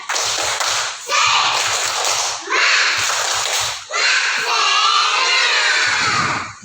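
A group of children in a classroom chant loudly together, punctuated by bursts of rhythmic clapping in short sequences.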